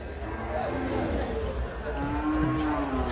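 Cattle low with drawn-out moos amid the babble and chatter of a crowded cattle market, with people talking close by.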